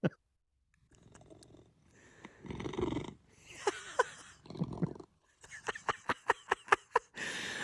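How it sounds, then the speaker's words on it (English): A cat purrs quietly in short, breathy rumbles separated by pauses, ending in a quick run of rhythmic pulses. "So here's the cat purr."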